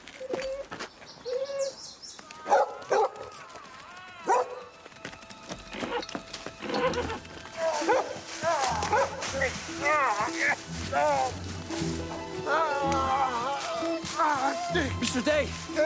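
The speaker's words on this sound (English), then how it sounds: "Stupid dog." Dog barking in a rural outdoor setting, short yelping barks scattered among overlapping voices, birdsong and pigeon-like cooing, fairly near and partly masked by the speech.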